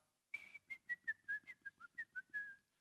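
A person whistles a short tune imitating a shepherd's whistle: about a dozen clear, bright notes in a quick, slightly falling rhythm, close and alone.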